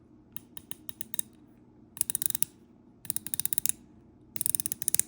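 Omega Seamaster 007 dive watch bezel turning under a metal keeper, giving loud, crisp ratcheting clicks in three bursts of quick, evenly spaced clicks with short pauses between, close up and alone.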